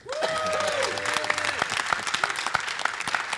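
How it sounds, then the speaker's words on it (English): Applause rings out for Ed and his wife Pat at an investor summit held aboard a cruise ship: a full, steady round of clapping from the room, with a few bright whistle-like tones near the start. "a round of applause with Ed and his beautiful wife, Pat"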